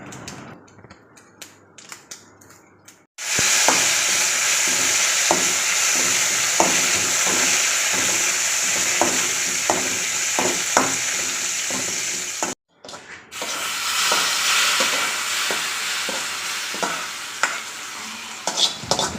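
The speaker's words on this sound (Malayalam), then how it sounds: "കടുക് വറ അതാണ് ഇപ്പോൾ നമ്മൾ ചെയ്തുകൊണ്ടിരിക്കുന്നത്" Mustard seeds crackle and spit in hot oil for tempering a mango pulissery. A dense, loud sizzle carries scattered sharp pops, broken by a short silence partway through, with no voices.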